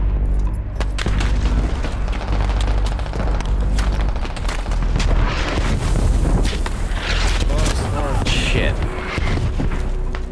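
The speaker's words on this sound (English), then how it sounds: "he threw a grenade at me" A grenade explosion in a large multiplayer video game firefight at a compound booms heavily and close, followed by rumbling, wind-like noise and scattered impacts, with a voice talking over it.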